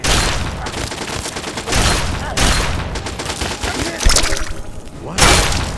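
Gunfire in the video game Fallout 3, out in the Capital Wasteland: loud repeated bursts of shots come in clusters roughly every second, with sharp impacts and a few heavier booms.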